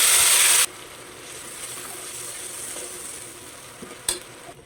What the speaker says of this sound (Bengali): ওই তেলেতে দিয়ে দেবো 1 চিমটে হিং, দিয়ে দেবো ফোড়নে দেবো কালো জিরে আর একটা শুকনো লঙ্কা, দিয়ে দেবো বেটে রাখা আদা আর কাঁচা লঙ্কা